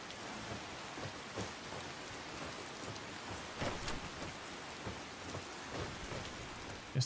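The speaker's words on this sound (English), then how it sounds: "Oh, it's raining, good." Steady rain patters heavily on surfaces in The Elder Scrolls V: Skyrim while faint thunder rumbles in the background, with no talking.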